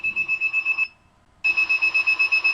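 A loud electronic buzzer driven from an LPC1768 microcontroller pin beeps in rapid pulses, pauses briefly into near silence, then resumes the same fast repeating tone.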